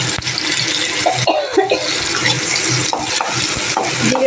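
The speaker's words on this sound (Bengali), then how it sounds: "এবার এই তেলের মধ্যে জিরে ফোড়ন দিয়ে দিয়েছি" Cumin seeds sizzle in hot oil in a pan that had just been used to fry fish, a loud continuous crackling hiss broken by brief stirring scrapes and clinks, with no voices.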